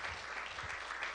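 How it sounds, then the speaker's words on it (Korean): Applause at a Korean Friday evening church service, a steady dense clapping texture lasting about a second, moderately faint and without speech over it. "다시 한번 큰 박수로 한번 우리 우겨고 격려해 주시기 바랍니다"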